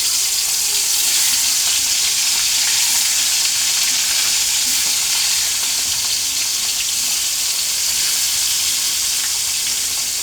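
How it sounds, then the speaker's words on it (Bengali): Tangra fish frying gently in mustard oil in a wok over lowered heat: a dense, loud, unbroken sizzle and crackle close by, with no voices. "এবার ট্যাংরা মাছগুলোকে একটু ভেজে নেব।"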